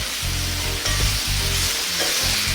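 Seasoned pork and fresh chili for a Sri Lankan pork curry stir-fry in a hot pan, giving a loud, close, steady sizzle broken by a few scraping stirs, with no talking.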